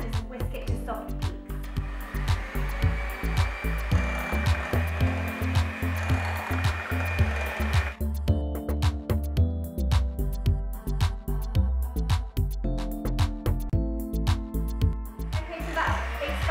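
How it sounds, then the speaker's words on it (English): An electric whisk whirs steadily through meringue for a s'mores cake, beating it to soft peaks with a constant motor hum and a pulsing beat as it works the mixture, then briefly changes pitch midway. "next I'm going to use an electric whisker and just whisk it to soft peaks"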